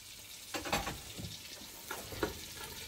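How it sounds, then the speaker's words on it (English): Onions and carrots sauté in a pot for a Jamaican chicken soup, a soft close sizzle punctuated by a few scraping stirs, with no talk. "So we're gonna saute that."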